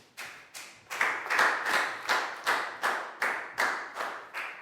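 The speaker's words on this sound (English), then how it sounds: "High five and a big round of applause for Pat, please, guys." A small group of children clapping together in a classroom, a run of about ten evenly spaced, sharp bursts of applause, close and moderately loud, with no talk.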